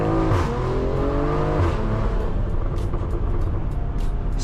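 A stock BMW M340i pulls hard in a roll from 20 mph, the engine note climbing steadily and loud from inside the cabin, with a continuous rumble and no talk.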